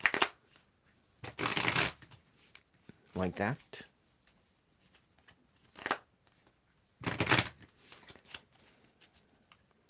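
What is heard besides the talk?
shuffling tarot cards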